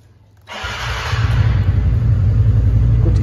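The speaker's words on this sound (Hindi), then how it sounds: "तो एक बार इस गाड़ी का साउंड सुना देता हूँ आप लोगों को।" A TVS Ntorque XP Edition scooter engine starts up and idles nearby, a steady low rumble with a mechanical hum that holds at a constant level after the sudden start.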